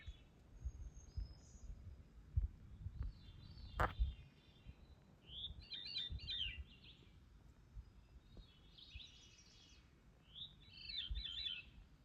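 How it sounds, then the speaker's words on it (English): Two vireos call back and forth on a cold, windy Appalachian Trail summit, short bright phrases trading at mid-distance over a low rumble of gusting wind, with one sharp click near the start. "I got to hear 2 Viries calling back and forth to each other."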